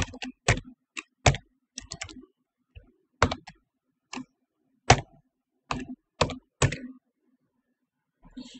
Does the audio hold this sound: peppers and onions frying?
no